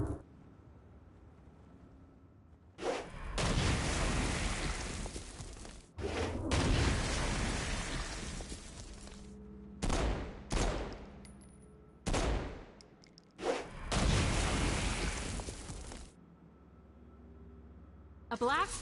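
Stone Blast attacks and gunfire from a Saints Row game on PS4: heavy rumbling blasts and rapid shooting in several loud bursts of a few seconds each, with voices talking in between.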